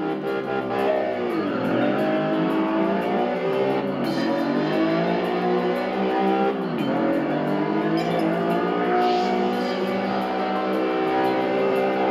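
A racing car engine in the driving game Test Drive Unlimited, revving loudly and continuously with rising and falling pitch as gears shift, steady and close throughout.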